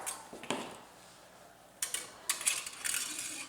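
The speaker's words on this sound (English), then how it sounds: "I'm just going to use this piece of floral wire, cut it with the wire cutters" Wire cutters snip floral wire for a wreath, giving a few sharp metallic clicks and clinks up close, mixed with light handling rustle.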